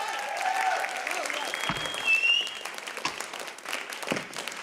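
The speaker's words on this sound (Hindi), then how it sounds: "जोरदार तालियां हो जाए।" A studio audience at a Hindi comedy show claps steadily for several seconds, with a broad, fairly soft wash of applause and some brief voices underneath.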